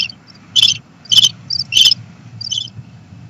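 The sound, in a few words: crickets chirping inside a house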